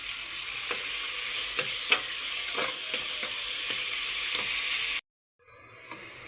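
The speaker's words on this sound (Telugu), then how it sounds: "ఇందులోకి మనం ముందుగా తురిమి పెట్టుకున్న సొరకాయ వేసేసుకుందామండి. వేసి దీన్ని బాగా మిక్స్ చేసుకుందాం." Grated bottle gourd frying in ghee, with a steady loud sizzle and a spoon scraping through it in irregular strokes. The sound cuts off abruptly near the end.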